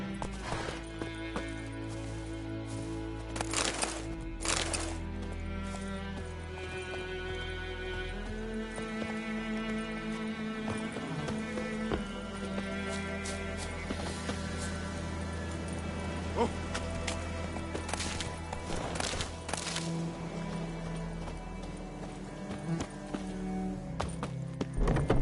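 Hooves of the horse Roach clip-clopping in a video game, a steady rhythmic plodding under music and an occasional voice.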